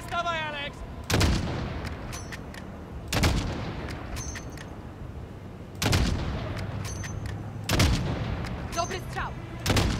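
Heavy gunfire from the 2019 Call of Duty: Modern Warfare, with loud, booming shots arriving in four or five separate bursts, each decaying under a sustained rumble, with scattered faint game sounds in between.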